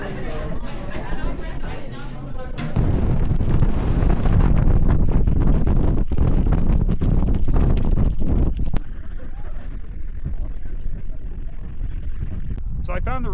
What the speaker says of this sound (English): The wind gust coming off this ice field when you're standing at the toe of the glacier